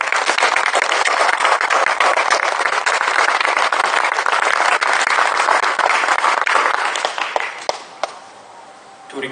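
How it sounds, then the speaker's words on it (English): Sustained applause from a seated audience of students and parents at a college event, a dense, loud wash of clapping that holds steady, then thins out and fades near the end. "can you please all join me in giving them a huge round of applause?"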